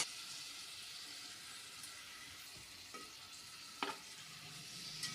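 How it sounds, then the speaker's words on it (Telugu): Mutton pieces stirred into fried masala in a pan, a steady soft sizzle with scraping stir strokes and a few sharp clinks of the spoon against the metal, close and continuous, no voices. "మసాలా అంతా బాగా ఫ్రై అయింది కదండి, మటన్ అనేది ఇందులో యాడ్ చేసుకోవాలి."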